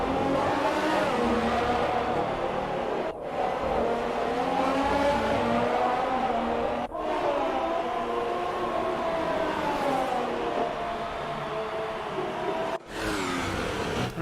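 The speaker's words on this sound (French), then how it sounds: "On est avec Giovinazzi dans la Ferrari, au cœur de ce cockpit." Onboard a Ferrari Formula One race car driven by Giovinazzi, the engine screams at high revs, its pitch rising and falling through gear changes, with brief sharp dips at upshifts and a steady, loud, close drone throughout.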